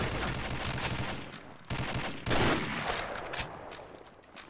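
Grenade blast and bursts of automatic rifle fire in the shooter game Combat Arms, dense rapid shots with loud explosive surges, continuous and close, no voice over the action.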